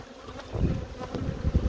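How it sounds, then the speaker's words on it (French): Honeybees swarm and hum around a hive at a home apiary, a steady wavering buzz with low fluttering pulses and faint breezy noise, no talking. "Chier d'avoir mes abeilles qui se barrent."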